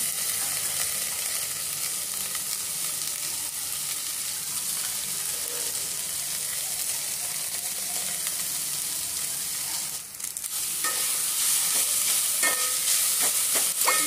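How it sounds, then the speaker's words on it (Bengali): Onions fry in hot oil in a pan for Lucknow chicken biryani, giving a continuous moderate sizzle. Near the end a brief louder clatter breaks in, followed by a few light taps. "পেঁয়াজটা ভাজা হয়ে গেছে"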